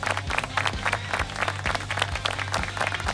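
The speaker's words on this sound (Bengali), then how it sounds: "একটা জোরে হাততালি হয়ে যাক" A studio audience at a televised quiz competition breaks into loud, sustained applause, dense rapid clapping close up and continuous for the whole stretch without a break.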